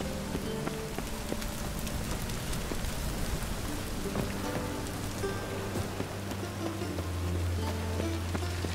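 Steady rain in The Witcher 3 patters on a surface without pause, with low tonal hums and occasional game sound effects layered underneath.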